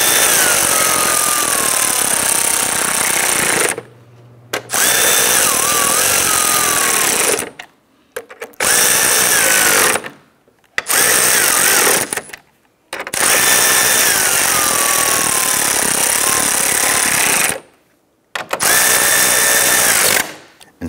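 A power drill drives screws into plastic trim on a 2011-2019 Ford Explorer during an AC condenser replacement, with several loud, close whirring bursts of a few seconds each, split by short pauses and slowing as each screw bottoms out.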